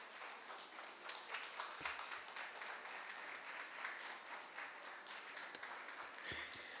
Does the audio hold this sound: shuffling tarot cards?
no